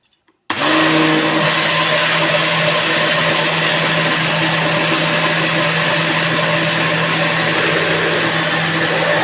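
A blender whips homemade butter with vinegar and lemon, starting abruptly and running as a loud, close, continuous motor whir with steady churning that holds to the end.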